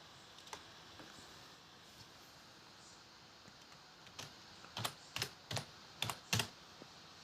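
Several crisp keystrokes on a computer keyboard, sparse at first and then a quick cluster of distinct taps near the end, set against a quiet room hum with no talking.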